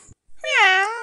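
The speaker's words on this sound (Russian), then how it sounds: "У тебя там кот под боком." A cat gives a single short, clear meow, close and fairly loud, rising then falling in pitch over less than a second, with silence just before it.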